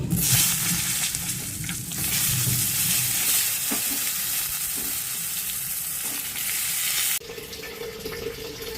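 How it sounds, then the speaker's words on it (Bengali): Eggplant slices fry in hot oil left over from frying hilsa fish, a steady loud sizzle running throughout, dropping to a quieter crackle near the end. "এখন বেগুনগুলো ভেজে নেব।"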